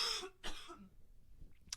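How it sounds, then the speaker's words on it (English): Two quick coughs close to the mic, a short gap between them, followed by a soft faint click near the end. "I have to cough."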